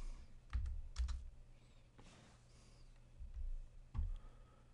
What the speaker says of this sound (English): we're going to type in 70